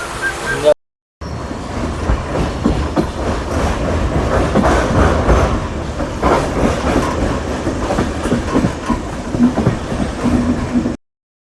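Loud, close rumble of a train running on rails into Subrahmanya railway station, with a rhythmic clickety-clack of wheels over track joints and a brief cut near the start.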